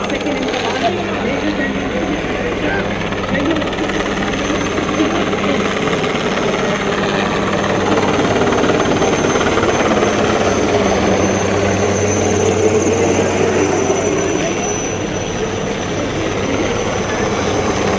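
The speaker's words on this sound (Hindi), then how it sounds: "हेलीकॉप्टर शान के साथ मंच की तरफ बढ़ते हुए" Army helicopters fly over a military parade in Jaipur, their rotors making a loud, steady, throbbing drone that lasts throughout, with a voice heard over it.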